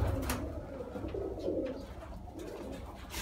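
Soft low cooing of Sialkoti pigeons, repeated warbling calls close by over a faint background rustle, no talking.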